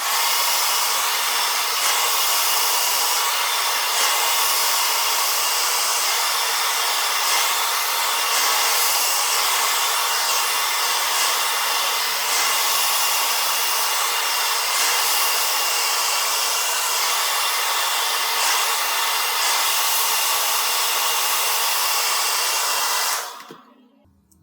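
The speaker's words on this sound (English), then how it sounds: "I need to use the dryer," A hair dryer blows loud and steady for over twenty seconds, a constant rushing whir that cuts off abruptly at the end.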